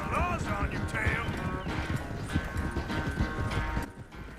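Horse hooves clip-clopping in Red Dead Redemption 2, a quick, steady rhythm of hoofbeats close by, with game music and other sounds mixed underneath.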